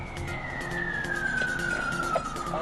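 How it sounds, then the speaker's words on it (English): A police car siren wails in a long, slowly falling tone over road noise, moderately loud and continuous. "In spite of blue flashing lights and wailing sirens"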